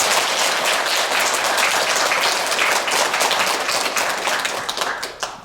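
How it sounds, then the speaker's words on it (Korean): Big, dense applause from a Buddhist congregation welcoming a monk at a New Year dharma assembly, loud and sustained before tapering off near the end. "불자 여러분들께서는 큰 박수로 스님을 환영해 주시기 바랍니다."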